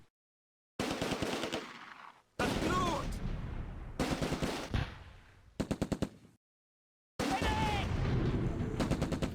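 Infantry squads firing in a Close Combat World War II game set during Operation Market Garden, with bursts of machine-gun and rifle fire separated by silent gaps, some rapid rattling volleys, loud and close.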